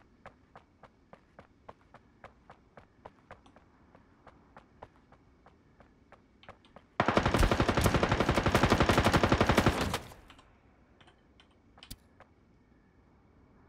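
Gunfire in the Ring of Elysium video game: a loud, sustained automatic burst lasts about three seconds. Before and after it come light, regular ticking steps and small clicks.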